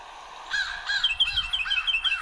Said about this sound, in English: It is the tufted titmouse.